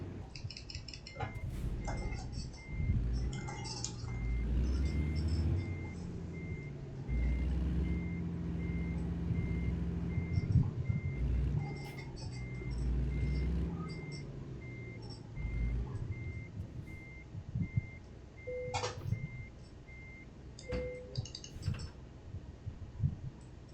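A truck backs up toward a trailer in American Truck Simulator, its reversing beeper sounding in two short tones near the end over a steady engine rumble and clinking noises.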